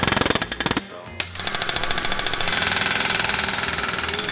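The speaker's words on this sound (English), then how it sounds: "My favorite tool on the job site is the air hammer." Rapid, steady pneumatic air hammer rattling on a job site, a brief pause then resuming in a fast, even burst that continues to the end.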